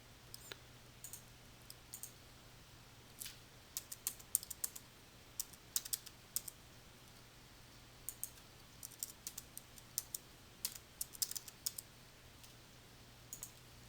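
Quick, light keystrokes on a computer keyboard come in scattered bursts and single clicks over a quiet hum, faint and close, with short pauses between clusters of typing.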